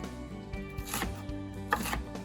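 A sharp knife chops an onion on a cutting board in a home kitchen, producing a few quiet, irregular taps.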